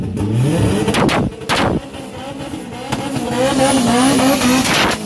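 A drag racing car makes a pass at a bracket race test-and-tune session, loud engine roar with rising pitch sweeps and sharp bursts, continuous and close throughout.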